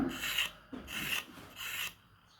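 Hand-whittling a palm leaf stalk into thin flat strips for weaving: three rasping scrape strokes, each about half a second, close and fairly loud with short pauses between, no talking.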